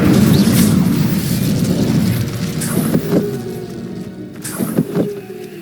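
Incendio fire spell cast in a Harry Potter video game, a loud rumbling burst of flame that roars at the start, then thins into crackling with a few sharp pops.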